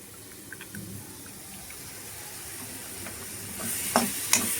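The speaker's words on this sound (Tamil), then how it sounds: "நல்லா இதையும் ஃப்ரை பண்ணலாம்." Mixed vegetables and tamarind for a garlic pepper kuzhambu sizzling in a pan, a soft steady fry with light stirring scrapes and a couple of sharper clinks near the end, no talking.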